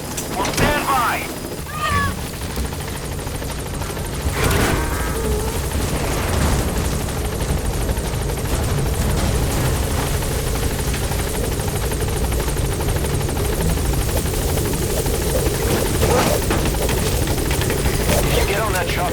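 Military helicopter idling and hovering at a landing zone in the video game Metal Gear Solid V: The Phantom Pain, a steady loud rotor and engine drone throughout with game radio voices talking over it.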